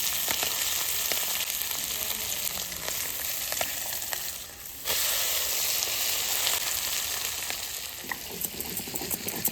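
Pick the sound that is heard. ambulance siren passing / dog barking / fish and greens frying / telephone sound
fish and greens frying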